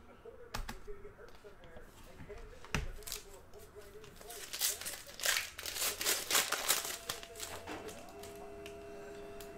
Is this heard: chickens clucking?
no